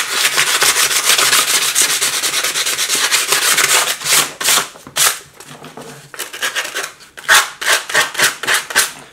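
Metal armor edges are rubbed by hand to make them shine, giving a loud, close, dry scrubbing sound, continuous at first and then breaking into quick separate back-and-forth strokes.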